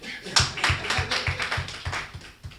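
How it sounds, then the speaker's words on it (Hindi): Scattered hand claps from an audience at a Hindi poets' chaupal gathering, a steady run of about nine sharp claps over a few seconds, moderately near with faint murmur beneath. "और अगली पंक्ति पर फिर तालियां उठनी चाहिए"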